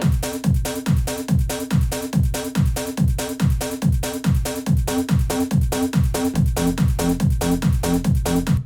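A deep Sylenth1 synth bass layer plays alone in a steady, pulsing pattern, each note hitting with a sharp attack and a quick downward sweep, repeating evenly throughout.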